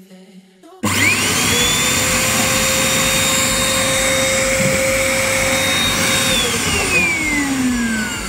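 A Denpoo HRV-8003 household vacuum cleaner switches on with a sudden start, and its motor settles into a loud, steady whine and airy roar that holds for the rest of the clip, with no voices.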